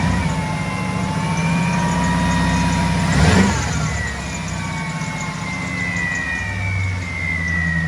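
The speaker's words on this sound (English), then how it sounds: "It'll bring the idle down. See? It has a little bit of that blower surge, huh?" A supercharged 1939 Chevrolet's engine idles steadily with a throaty low rumble and a whining blower, surging briefly in the middle before settling back to idle.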